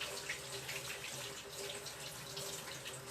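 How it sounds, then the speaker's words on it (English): Tap water runs steadily from a kitchen faucet into a sink as sticky hands are washed after baking plum pudding, a continuous close splashing hiss with no talk. "let me wash my hands because they're still too sticky"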